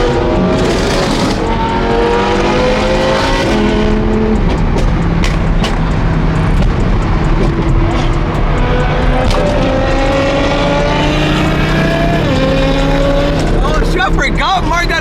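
Corvette Z06 with an aftermarket single-turbo kit, its engine revving loudly and continuously with rising and falling pitch sweeps and turbo whoosh, close by, while people talk over it.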